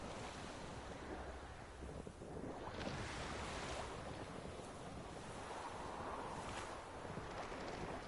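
Boat crossing a foggy lake in The Witcher 3, water washing and wind rushing steadily around the hull, soft and continuous with gentle swells.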